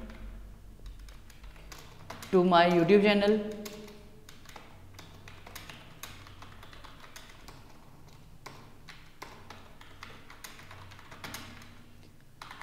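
Someone types text on a computer keyboard, producing a rapid scatter of light clicks and taps close by. A voice speaks over the early part of the typing.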